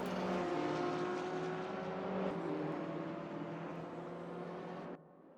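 A Porsche race car engine in a sim racing endurance event at Imola holds a steady, loud, droning roar with shifting pitch, then abruptly drops to a faint hum near the end.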